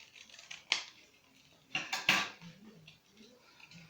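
Scissors trim a paper wing shape in a few short snips, with one sharp cut near the start and a couple of crisp cuts midway, close and fairly quiet over light room noise.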